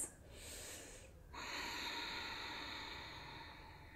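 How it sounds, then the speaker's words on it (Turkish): Someone practicing yoga takes a deep, calm breath close to the microphone: a soft airy intake, a brief pause, then a longer, steady, breathy exhale trailing off. "Derin nefes al. Sakin nefes ver."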